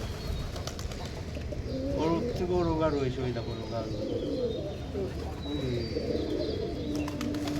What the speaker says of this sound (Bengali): এখানে দেখো সব পায়রাগুলো একই রকম দেখতে